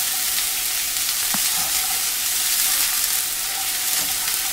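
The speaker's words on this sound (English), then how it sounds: "Saute this well" Onions sauté in a pan for an Indian dhaba-style chicken dish, a loud, dense, continuous hiss of frying with a brief stir knock, no talking.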